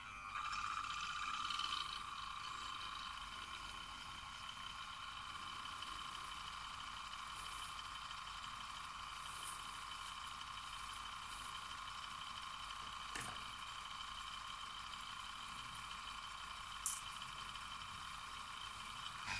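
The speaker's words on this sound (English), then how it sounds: "And now I'm going to turn the motor on." The small electric motor of a homemade PCB etching machine runs with a steady, faint tonal whine and hum that holds unchanged throughout, with an occasional light click.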